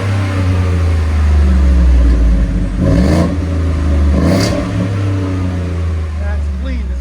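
A 2024 Ford F-150 with its 5.0L Coyote V8 and an MBRP universal muffler, idling with a steady low rumble and two short revs that swell and fall back, heard close up outdoors.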